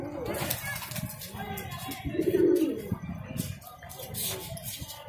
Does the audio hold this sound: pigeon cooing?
yes